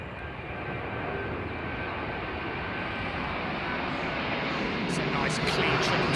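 Boeing 777-200 airliner landing at London Heathrow in crosswind, a steady loud jet engine roar that grows slightly toward the end, with people talking over it.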